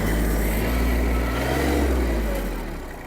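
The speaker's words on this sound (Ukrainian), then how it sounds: "Ми з вами дуже гарно вже прогріли наш двигун." A warmed-up Kubota B-72 Japanese mini tractor engine runs close by, a steady low mechanical drone with a slight rise in revs before easing off toward the end.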